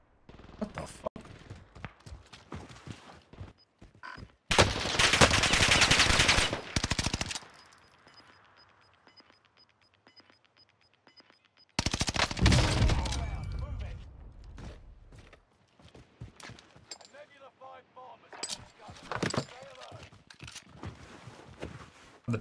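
A PPSh submachine gun fires in hipfire during a video game: two dense, loud bursts of rapid automatic fire, each lasting a few seconds with a long gap between, among softer mechanical clicks and footstep-like game sounds.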